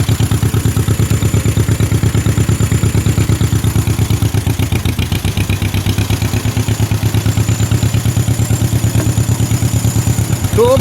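John Deere MT tractor engine running in gear, a loud, close, rhythmic chugging with steady rapid thumps that continue without a break, and no talking.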